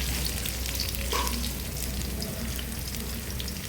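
Onion, curry leaves and peanuts fry in hot oil as a tempering for a dal and onion dish, a dense, even sizzle that runs steadily and close throughout.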